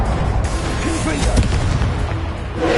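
A Confringo blast spell in Hogwarts Legacy lands with a booming, crackling burst midway through, set in a loud, steady bed of rumbling game noise with faint voice-like sounds mixed in.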